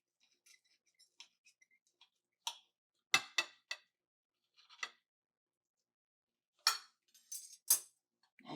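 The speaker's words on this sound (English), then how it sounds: "I'm going to cut this in half." A knife or spatula cuts a vegetable-packed omelette in half in a frying pan, giving a series of sparse light clicks and scrapes against the pan, with a few sharper strokes clustered in the middle and near the end.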